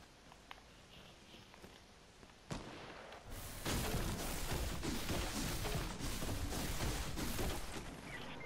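A gunshot cracks behind the players in a combat video game, a sharp report followed by sustained loud gunfire and battle noise after quieter footsteps.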